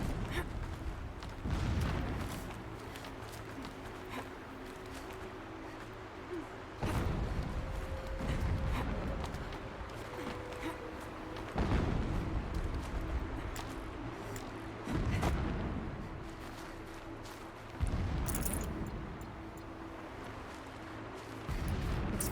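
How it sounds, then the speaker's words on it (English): Distant explosions in Horizon Zero Dawn, several dull low booms at irregular intervals about every few seconds, rolling under a steady game ambience with no speech. "Explosions in the distance."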